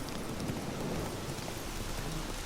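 A horse ridden in The Witcher 3: Wild Hunt makes a steady clip-clop of hooves under a dense, constant wash of ambient noise. There is no talking.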